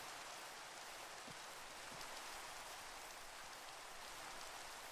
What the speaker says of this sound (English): now it's raining and slash snowing.